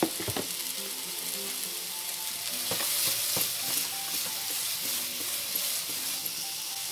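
Mushrooms fry in a hot pan, lightly salted, with continuous sizzling broken by sharp scraping and stirring strokes, close and fairly loud.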